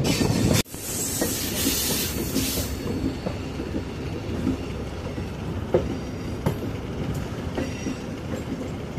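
A train runs on the Karaikal–Thirunallar–Peralam rail line through a big left curve, with a steady rumble, wheel clatter and faint squeal throughout, heard from on board and fairly loud, with one sharp thump near the start.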